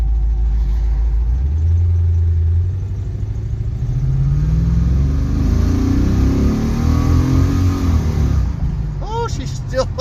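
An old car pulled out of a barn after more than ten years of storage revs its engine loudly and steadily, the pitch climbing and sweeping through a rough, continuous roar.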